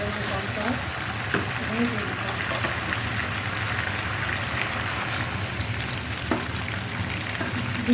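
Chicken stir-fried in a pan for Korean-style spicy chicken gives a steady, close sizzle with light stirring scrapes throughout, and a few soft knocks of the utensil against the pan.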